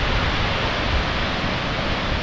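Waterfall at El Chiflon in Chiapas, a steady broadband rush of falling water that stays loud and even throughout, with no voices.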